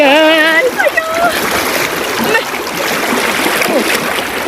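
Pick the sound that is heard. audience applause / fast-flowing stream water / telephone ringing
fast-flowing stream water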